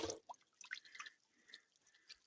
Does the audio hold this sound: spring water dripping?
yes